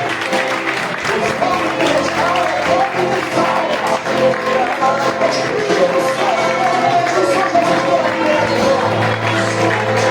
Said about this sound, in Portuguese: Você pode aplaudir o Senhor Jesus? Mais forte que ele.